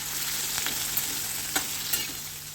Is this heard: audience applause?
no